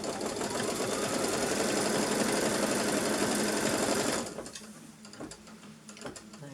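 Sewing machine stitching a seam that joins two pieces of fabric, a loud rapid continuous mechanical whirr with rattling gears for about four seconds, then stopping abruptly to leave quiet handling clicks.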